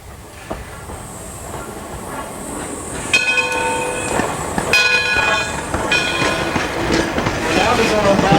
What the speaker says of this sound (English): I have been hearing train whistles.